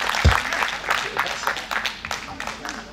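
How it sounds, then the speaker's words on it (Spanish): Audience applause at a panel talk, a patter of scattered hand claps that thins out over a few seconds, a heavy thump at the start, with a voice speaking over the clapping. "Un aplauso, muchachos."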